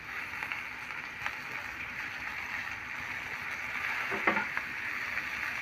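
Ivy gourds fry in a pan with turmeric and curry leaves, a steady close sizzle with occasional stirring scrapes and a brief spatter near the end.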